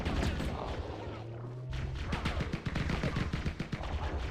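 Rapid bursts of submachine gun fire rattle through a video game firefight on Legendary difficulty, dense and steady with sharp repeated reports and a brief lull in the middle.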